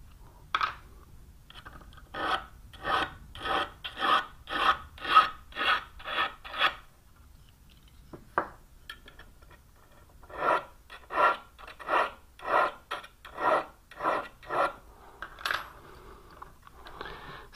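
Hand file working a wooden sash profile scraper, steady rhythmic rasping strokes close up, two runs of about ten strokes each with a short pause between them.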